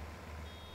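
A tractor reversing in the Farming Simulator 19 video game gives a steady, continuous reversing beep over a low engine drone, faint and even throughout the short moment.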